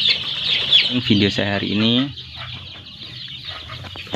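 Ten-day-old Kub Sensi chicks cluck and peep while feeding, a busy chorus of high chirps close by, with someone briefly talking over them.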